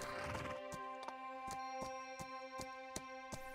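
Horse in the video game Star Equestrian, a short neigh with steady clip-clop hoofbeats repeating at an even pace, faint and set against soft game music.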